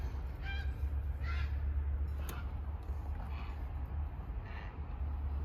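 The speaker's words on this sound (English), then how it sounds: "Geese at 1 o'clock in the morning" Geese honking at one in the morning, several scattered honks at moderate distance over a steady low rumble, heard from a garage or driveway at night.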